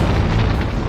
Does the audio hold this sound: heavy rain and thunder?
no